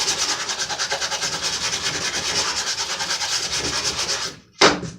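Rhythmic back-and-forth rasping of 220 grit sandpaper stapled around a wooden block, rubbed by hand over a wood surface, loud and close, ending with a brief pause and one last stroke.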